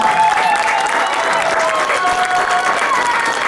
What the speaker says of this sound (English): Give one more big round of applause to our 2023 Marching Rams.